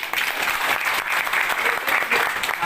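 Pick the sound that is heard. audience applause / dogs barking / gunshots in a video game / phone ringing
audience applause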